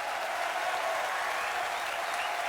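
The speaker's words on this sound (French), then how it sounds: "Allez-y, applaudissez pour voir." Dense, steady applause from an audience, a constant wash of clapping with no pauses or voices.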